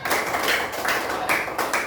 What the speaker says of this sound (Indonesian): Tepuk tangan buat kelompok Arya